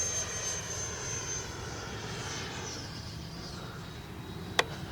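E-flite Viper 90mm RC jet passing in flight, a steady whooshing whine of its ducted fan drifting at moderate distance, with one sharp click near the end.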